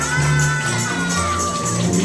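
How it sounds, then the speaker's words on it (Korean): Children and adults at a Sunday school worship service burst into loud, sustained applause and cheering to welcome a new girl, with scattered shouts and whoops rising over the clapping throughout. "이서연 친구 올라올 때 큰 박수로 환영하겠습니다."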